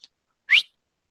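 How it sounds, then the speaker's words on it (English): A single very short human whistle, a bright rising chirp that sounds alone in quiet, briefly and fairly close, during a tabletop D&D campaign session. "Just do like a very, very short whistle"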